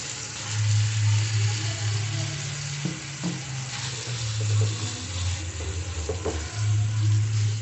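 Mashed boiled potatoes sautéing with spices in an oiled pan, a steady close sizzle with occasional scraping stirs and light clinks, no voices.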